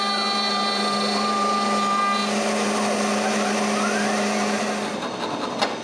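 A router fitted with a dust shoe cuts wood, giving a loud, steady high-pitched whine with tonal harmonics that holds for several seconds before dropping off near the end, with no speech.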